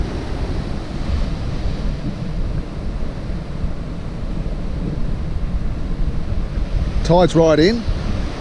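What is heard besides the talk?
ocean waves on surf beach, Diamond Bay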